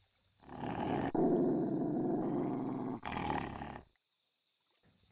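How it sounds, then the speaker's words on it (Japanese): A dog growls low and barks threateningly in a loud, sustained outburst of a few seconds that then cuts off to near silence. "威嚇する時の低くてうなるみたいな吠え方だったんだ"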